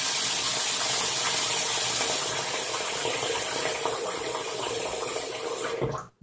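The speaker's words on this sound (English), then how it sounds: "let me fill up my sink" Tap water gushes steadily into a sink as it fills, a close, constant hissing splash that runs for several seconds before shutting off at the end.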